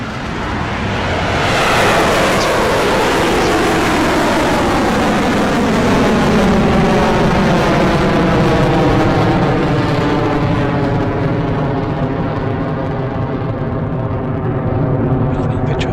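A Rocket Lab rocket lifts off with a sustained broadband roar that swells and holds loud and steady, with falling whistling tones sweeping through the rumble.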